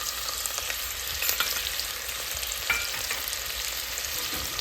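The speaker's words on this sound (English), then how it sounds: "I can add the peanuts now." Peanuts go into a pan with onion for a vegan rice and lentil khichdi, and a steady, even sizzle of frying fills the clip with faint stirring scrapes underneath and no talking.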